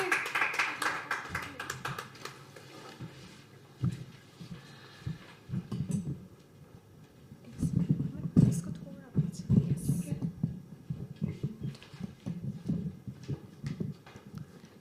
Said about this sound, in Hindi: नहीं अच्छा होगा, तालियां बजाइए